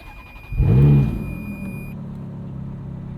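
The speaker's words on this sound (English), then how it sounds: "Stick that into the ignition and hold the start button." A 2008 Ferrari F430 Spider's 4.3-liter V8 cranks and fires into a loud, close startup flare, then settles into a low, steady rumbling idle, with no one speaking.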